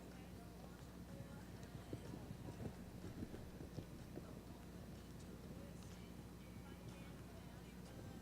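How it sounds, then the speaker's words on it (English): Horses loping on the rail in a western riding arena during a youth show, their hoofbeats a soft steady patter under wind noise and distant crowd ambience throughout. "Lope your horses, please, riders, on the rail at the lope."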